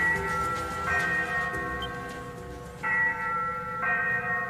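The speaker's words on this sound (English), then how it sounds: "The ship's bell?" A ship's bell in the video game Ys VIII rings repeatedly, bright sustained metallic tones struck in a slow rhythm over a steady ambient background, with no talking.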